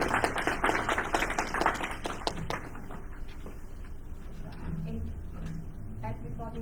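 A small group at a town council leisure and recreation committee meeting claps in a short, scattered round of applause that fades after a few seconds, followed by quieter room sounds and a voice.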